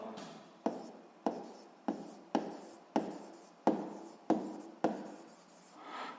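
Pen scratching across paper in short repeated strokes while a physics formula for volume is written out, close and steady, about nine strokes in quick rhythm with no talking.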